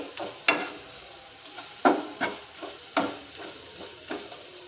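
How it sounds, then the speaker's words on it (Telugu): Garlic, chili and carrot frying in oil in a pan for carrot garlic karam, with a steady low sizzle broken by several sharp scraping stirs at an irregular rhythm, close and moderately loud, no talking. "మనకి వెల్లుల్లి కారం కూడా చక్కగా ఆయిల్లో ఫ్రై అవుతుంది"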